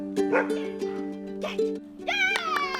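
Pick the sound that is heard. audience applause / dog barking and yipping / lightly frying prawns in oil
dog barking and yipping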